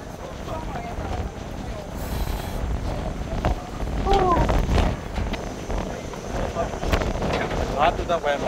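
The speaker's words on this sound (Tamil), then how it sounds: "காற்று அடிக்குது." Strong wind buffets the microphone in steady gusts beside a rock outcrop in Sigiriya, Sri Lanka, a loud continuous rumble that swells midway, with people talking over it.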